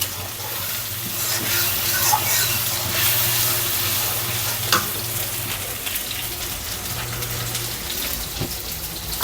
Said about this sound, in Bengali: মশলা দিয়ে দিলাম মশলাটা দিয়ে আমি কষিয়ে নেব সুন্দর করে